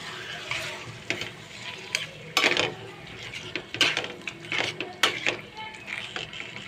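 Chicken pieces going into fried masala in a pot for dum chicken biryani, with sizzling under repeated sharp scrapes and clatters of a utensil against the pot in an uneven, busy rhythm.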